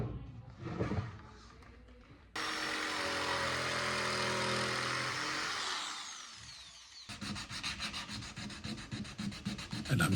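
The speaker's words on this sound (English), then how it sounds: "I'm sanding to define the shape" A power sander shapes the wooden legs of a 19th-century French farmhouse table, first as a loud continuous whirring rub, then as a rapid pulsing scrape in short repeated strokes after a brief pause.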